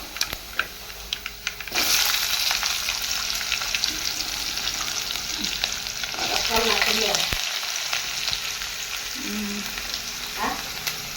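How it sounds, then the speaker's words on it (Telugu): Cut potato pieces frying in a hot pan, a steady loud sizzle that jumps up as they hit the oil, with occasional stirring scrapes and clinks throughout. "మనమైతే ఉర్లగడ్డలు అయితే వేసేద్దాం."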